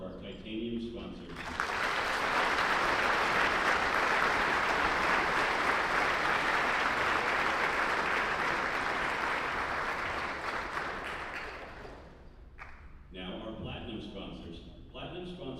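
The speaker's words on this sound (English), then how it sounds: "Let's have a big round of applause for our titanium sponsors." Sustained applause from a banquet audience at a student design competition awards dinner, swelling quickly into a loud, dense wash of clapping for about ten seconds before thinning out as a voice returns.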